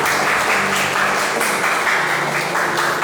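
A church congregation breaks into loud, continuous applause, a thick unbroken wash of clapping throughout.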